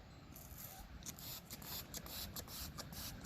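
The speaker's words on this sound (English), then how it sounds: "We're going to spray this filter nice and thoroughly." Cleaner sprayed onto the air filter of a 2006 Yamaha 450 dirt bike outdoors, a series of faint, quick hissing spray bursts repeating at short intervals over low background noise.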